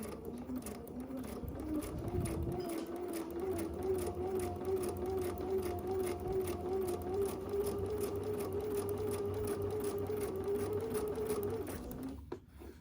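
Domestic sewing machine chain piecing quilt fabric, a steady close motor whir with rapid needle clatter running continuously before it stops near the end, with no one talking.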